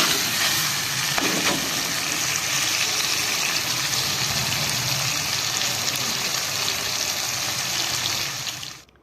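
Potatoes cooking in a masala curry give a steady broadband hiss and sizzle of liquid, continuous and fairly loud throughout before fading at the end, with no talk over it.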